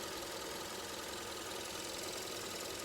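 A 2015 Kia K3 with a GDi engine runs steadily after warming up, giving a continuous, fairly loud mechanical hum and rattle with an even, unchanging tone throughout.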